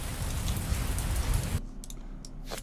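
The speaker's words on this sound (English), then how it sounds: "turn off all the rain." Steady hiss of heavy rain in a video game fills the first second and a half, then cuts out abruptly, leaving near silence with a few faint clicks.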